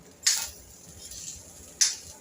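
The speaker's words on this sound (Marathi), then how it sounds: "आता ह्यालाही छान आपल्याला मिक्स करून घ्यायचं आहे." A utensil mixes grated jaggery into coconut for coconut rice, two sharp clinks against a metal pan about one and a half seconds apart, with soft stirring between them and no talk.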